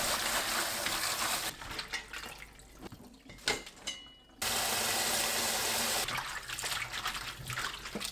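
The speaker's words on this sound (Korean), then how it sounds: "건가지를 두세 번 씻어줍니다." Dried eggplant is washed two or three times in water. It gives loud, close sloshing and splashing, with a quieter dripping, trickling stretch in the middle before the swishing resumes. No one speaks.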